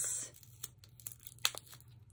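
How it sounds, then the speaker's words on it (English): Large scissors cutting, a few quiet close snips and rustles, with faint crinkling of material under a low background hum. "be careful with those big scissors"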